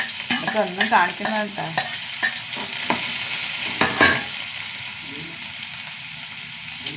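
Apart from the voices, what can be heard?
mustard seeds and onion frying in oil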